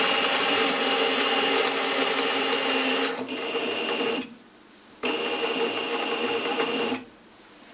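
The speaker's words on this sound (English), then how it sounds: "At the moment I'm using a motor from a sewing machine." A small sewing machine electric motor driving an old Sloan and Chace lathe whines steadily, cuts out briefly, spins back up, then stops again, with a faint mechanical rasp under the hum.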